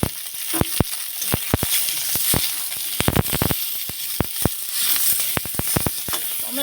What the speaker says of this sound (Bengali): এবারে যে কাঁচা টমেটোটা নিয়েছিলাম সেই টমেটোটা হালকা করে ভেজে নেব।